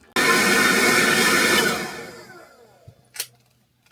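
A hair blow dryer running inside a camper, a loud steady whir that cuts off suddenly when the breaker pops and then winds down over about a second, followed by a few faint knocks in near silence.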